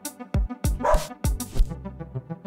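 Two dogs bark in 3 Minutes With Your Dog, a game styled like horror, giving a few sharp, loud yips and barks in quick succession followed by softer whimpering tones.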